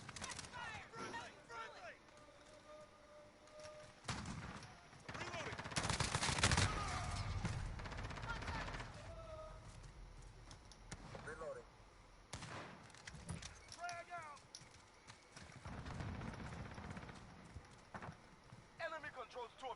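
Bursts of gunfire crackle through a Black Ops Cold War match, rapid shots in several clusters under game sounds and frequent spoken callouts from the game and a player.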